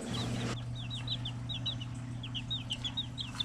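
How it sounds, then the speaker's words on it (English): Flock of bantam hens clucking nearby, with a series of soft, quick clucks spread across a few seconds over a low steady hum. "This is our flock of bantam hens."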